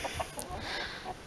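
A young rooster clucks a few short, soft times nearby in a backyard garden setting, brief and close.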